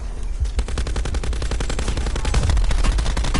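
Rapid automatic gunfire in a battle royale video game, a dense close burst of sharp shots fired in quick succession throughout, loud and steady with no talk over it.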